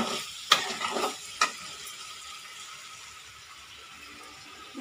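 Chicken pieces fry in hot oil, with a steady soft sizzle throughout and a couple of sharp stirring clinks near the start.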